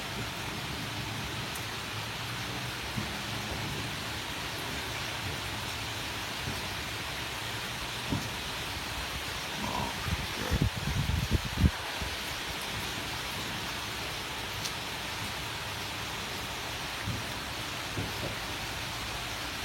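Heavy rain pours in a dense, unbroken hiss during a thunderstorm, with a brief cluster of low rumbling thumps midway and no clear voices.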